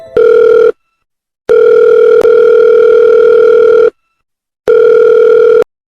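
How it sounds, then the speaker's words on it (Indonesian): Mobile phone ringback tone on an outgoing call, repeating steady electronic tone bursts with silent gaps between them, loud and close, no voices. "Ropik pun mencoba menelepon Jaka lewat telepon selulernya."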